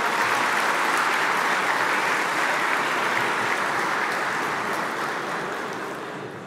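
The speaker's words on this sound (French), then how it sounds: "Merci pour les applaudissements." A large audience at the Assyro-Chaldean community's annual grand dinner in France applauds in a thick, sustained roar of clapping that fills the room and eases slightly toward the end.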